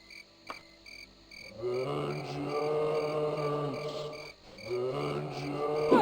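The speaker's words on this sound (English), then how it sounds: "Night is noisy though, with cricket sounds and everything." Night ambience in The Elder Scrolls II: Daggerfall with crickets chirping, a dense, buzzing insect chorus that swells in after a short quiet start, dips briefly, then returns, with a few faint clicks.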